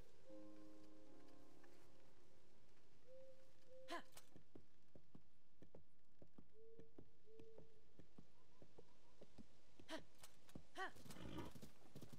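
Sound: horse galloping, from video game Zelda Tears of the Kingdom

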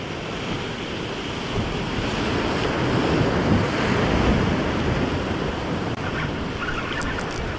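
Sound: ocean waves surging against a rock jetty

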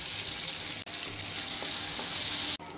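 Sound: five-spice and chopped garlic frying in oil

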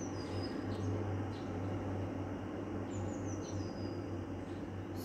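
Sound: birds singing

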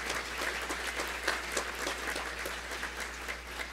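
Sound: audience applause

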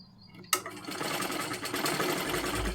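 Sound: sewing machine stitching a double seam on blouse piping

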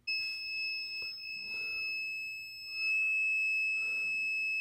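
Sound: multimeter continuity test beep on e-bike battery fuse

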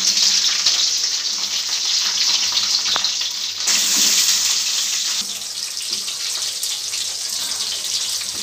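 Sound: capsicum frying in hot oil

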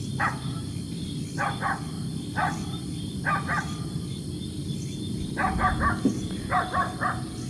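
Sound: dogs barking at night

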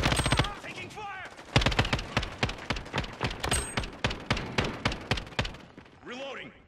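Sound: gunfire from the video game Call of Duty: Modern Warfare

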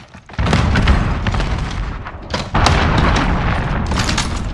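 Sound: cruise missile explosion in the video game Call of Duty Modern Warfare

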